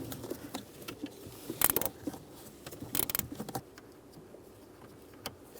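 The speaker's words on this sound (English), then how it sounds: "you can use a ratchet wrench, be a little quicker" A ratchet wrench spins a nut loose on a steering shaft bolt of a 2007-2013 Chevy Silverado, giving two short bursts of rapid metallic clicking close by, with softer clinks and handling noise in between.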